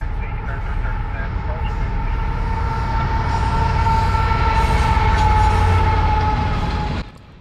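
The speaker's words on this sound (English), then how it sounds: "IO25 as it makes its way south with a load of 14 cars full of Teslas plus the normal intermodal consist" A southbound CSX freight train of intermodal cars, including autorack cars carrying Teslas, rolls past with a loud, steady rumble and rail squeal that cuts off abruptly near the end, with a voice talking over it.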